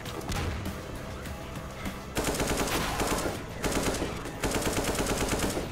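Rapid bursts of automatic gunfire in a Half-Life 2 mod firefight, loud and dense, with sharp rattling volleys that surge in waves and faint voices underneath.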